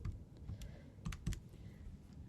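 Computer keyboard keys typed in a few quick clusters, close and fairly quiet, with no speech over them.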